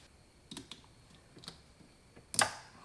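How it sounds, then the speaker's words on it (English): Zip tie snapping inside an Aston Martin Rapide door, a few faint plastic ticks and fiddling clicks followed by one sharper, louder snap near the end, with no talking. "we're gonna go ahead and break this zip tie"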